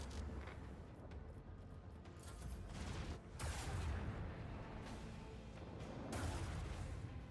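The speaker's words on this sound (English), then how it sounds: "Show them the fury of our macro cannon." Macro cannons fire a barrage in the space combat of the Rogue Trader video game, heard as a faint series of dull booms and rumbling bursts rolling over a continuous low noise bed.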